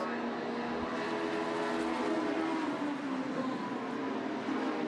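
Honda race cars climbing over a hill on the opening lap of a Hondacup race at Pukekohe, a sustained drone of several engines blended with a steady roar, heard from trackside at moderate distance.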